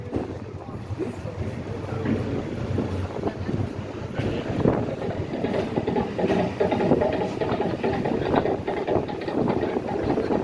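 A tour trolley rolls over a bumpy bridge, with a continuous loud rattling rumble and wind buffeting the microphone throughout.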